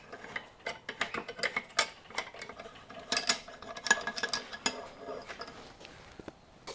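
Steel bench vice screw being wound by hand through its nut during a repair: rapid, irregular metallic clicks and rattles of threads and handle, close up, continuous without talk.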